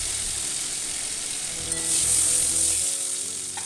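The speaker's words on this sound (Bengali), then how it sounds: "তারপর সামান্য কিছুটা তেল দিয়ে তাতে আমি তেজপাতা, শুকনো লঙ্কা, কালো জিরে মৌরি ফোড়নে দিয়ে দিচ্ছি।" Bay leaf, dried red chilli, nigella and fennel seeds sizzle steadily in a little hot oil, a dense close crackling hiss that swells briefly midway, with no voices.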